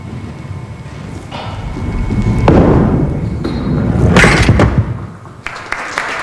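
A 5-pin bowling ball strikes the head pin during a televised semi-final, giving a loud thud and pin clatter over the steady rumble and murmur of a busy bowling alley.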